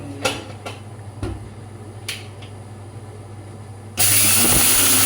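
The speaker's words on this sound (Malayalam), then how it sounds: "ഉലുവ പൊടിച്ച് കിട്ടി" Fenugreek seeds being ground into powder for mango pickle: a few sharp clicks and taps, then a loud, steady whirring grind that starts suddenly about four seconds in and runs to the end.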